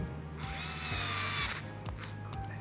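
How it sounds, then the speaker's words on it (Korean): A power driver whirs steadily, then stops and restarts in short bursts while fastening screws during installation of a yoke steering wheel on a Tesla Model Y Juniper, close and loud with no talking. "옆에 구멍에도 나사 체결해 주겠습니다."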